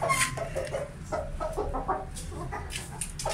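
A Mianwali Aseel hen clucks in short repeated bursts close by on a rooftop set, the calls coming in a loose rhythm over steady background noise.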